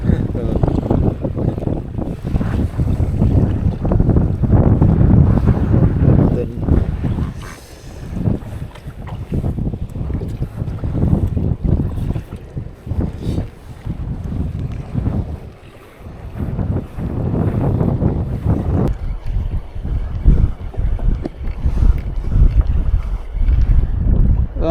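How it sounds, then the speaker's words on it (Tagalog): Big sea waves and rushing water heard from a small boat while fishing off West Auckland, with heavy wind buffeting the microphone; the churning roar is loud and continuous, dipping briefly, while a few voices speak over it now and then. "Laki ng alon."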